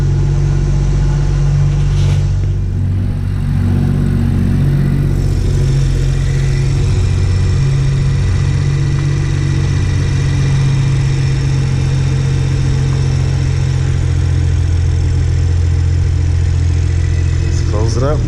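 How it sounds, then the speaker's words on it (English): A BMW 340i fitted with a BMS intake, heard after a cold start, settling into a loud, steady, deep idle that drones on without a break. "Talk about a damn cold start."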